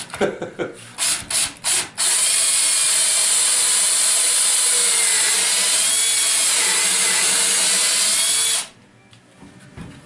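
A power drill bores countersunk holes into log and black cherry wood for a dresser, running as one loud continuous whine for about seven seconds after a few short bursts.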